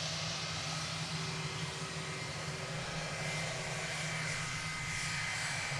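An American Airlines Airbus A321 rolls along a runway at DFW Airport, a faint, steady engine rumble and whine held at a distance with no change in level.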